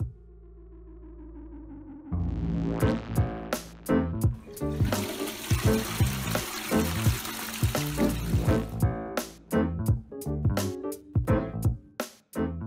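A toilet flushes with a gushing rush of water that swirls and gurgles for several seconds, then drains away into scattered trickles and drips.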